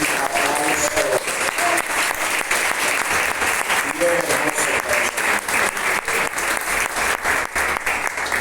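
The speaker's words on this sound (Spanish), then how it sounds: "un aplauso" A Spanish-speaking church congregation applauds steadily throughout, a dense, loud wash of clapping with a few voices speaking Spanish over it near the start and end.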